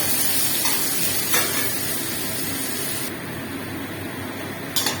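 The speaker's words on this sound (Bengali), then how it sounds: "আমি বেরেস্তার জন্য পেঁয়াজ কুচিয়ে নিয়েছি, এটা ভেজে নেব।" Chopped onions fry in oil to become crisp beresta, a steady, dense sizzle and crackle that holds close and even throughout, with no voices.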